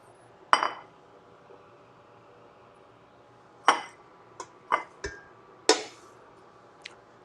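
Sharp clinks of a serving utensil against a bowl as fresh garlic and basil pasta is dished up, several separate knocks spaced irregularly, close and fairly quiet with no talking.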